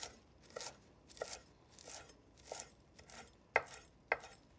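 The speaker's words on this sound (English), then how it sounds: "Just turn it around, chop it up again." A knife chopping arugula on a cutting board, about nine crisp, evenly spaced taps with the last few sharper, close up and alone.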